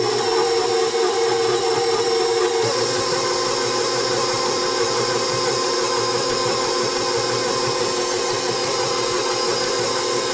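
KitchenAid stand mixer fitted with a beater blade, mixing peanut butter cookie dough: a steady, loud motor whir with a grinding mechanical hum that holds constant throughout, close up, no voices.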